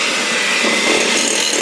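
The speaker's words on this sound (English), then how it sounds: "This is probably a lot older than Katie's hand mixer, so I'm assuming it's very loud." An old electric hand mixer whirs loudly and steadily in a home kitchen during holiday baking, a harsh buzzing motor noise running continuously with no break.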